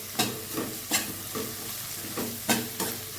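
Ginger garlic paste with turmeric frying in a pan, stirred in a steady rhythm of about six scraping strokes over a continuous sizzle, close and moderately loud with no voices.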